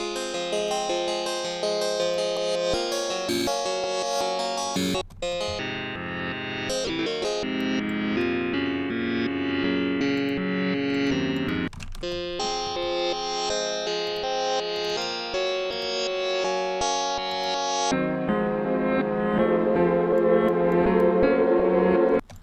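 A sustained synth melody in FL Studio drenched in long reverb, notes smearing into each other in a continuous wash with a few abrupt changes.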